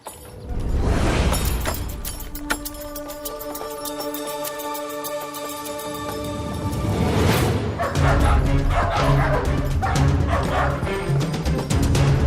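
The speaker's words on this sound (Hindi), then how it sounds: "कितनी जोर जोर से भौंक रहा है कुत्ता," A dog barks loudly and repeatedly in a tense scene, its sharp, yelping barks coming in close bursts with whimpers in between, over a busy background.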